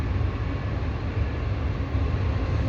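Continuous heavy rumble of a passing train, loud and steady throughout with no voices.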